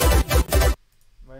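Raw bass sample, unprocessed before any pitch mapping, playing as a loud, dense, buzzy low burst with three pulsing swells that stops abruptly, followed by a faint tail and a quieter tonal blip.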